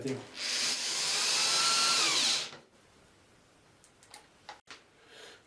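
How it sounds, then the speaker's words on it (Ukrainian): A power screwdriver drives long self-tapping screws into the front leg of a polystyrene beehive bottom with a mesh floor, one steady whirring run of about two seconds up close, then fading to low handling noise and faint clicks. "Та ніжка, котра прикручується в передній частині корпуса, прикручується двома довгими саморізами"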